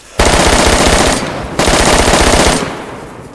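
Automatic gunfire in the DayZ video game: two sustained, loud bursts of rapid shots, the first about a second long and the second slightly longer after a brief pause, with no talk over them.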